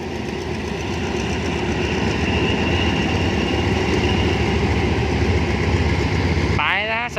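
Diesel locomotive D.4508 at the head of train 9 on the Bangkok to Chiang Mai service rumbles in a loud, steady idle close by. A brief metallic squeal sounds near the end.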